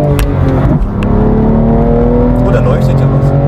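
A 2019 BMW M2 Competition engine starts and revs at close range, sounding loud and throaty as the revs climb and settle, with a voice talking over it.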